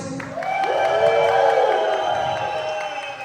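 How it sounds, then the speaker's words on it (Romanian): An audience claps and cheers for the boys at an event, with loud, steady applause and a few raised voices in the crowd. "Aplauze pentru băieți!"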